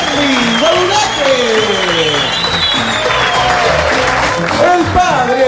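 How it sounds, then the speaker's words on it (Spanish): Loud, continuous applause from a crowd, with cheering voices and shouts mixed in throughout. "Fuerte el aplauso para Charlie Badulaque!"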